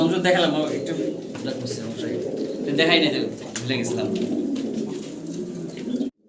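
A pair of pigeons, one a Bur-head, coos in soft repeated calls, partly masked by someone talking close by throughout.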